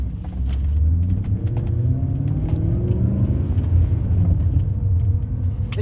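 A BMW E39 M5 with its muffler deleted pulls away in first gear, a deep, loud exhaust rumble building steadily and close by, with no talking over it.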